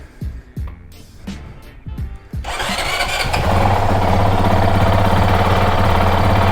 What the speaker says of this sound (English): Let's go ahead and turn the bike on.